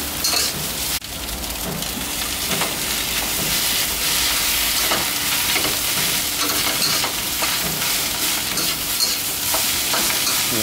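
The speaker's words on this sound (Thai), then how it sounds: "นี่แล้วก็ผัดไปเลยนะครับหลังจากหยอกซีอิ๊วดำแล้ว" Egg fried rice with sweet dark soy sauce is stir-fried in a hot pan, filling the air with a loud, dense, steady sizzle and repeated scraping strokes from the spatula, close up.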